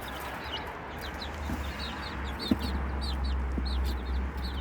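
A mother hen clucks softly over a steady low hum, with small birds chirping repeatedly in the background.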